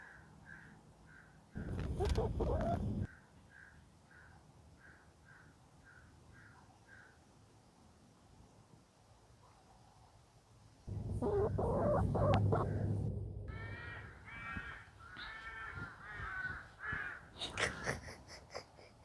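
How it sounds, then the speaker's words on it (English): Crows caw repeatedly at a distance, a steady series of calls, then a loud burst of harsh, laughing caws up close. "Oh, the crows are funny. They sound like they're laughing."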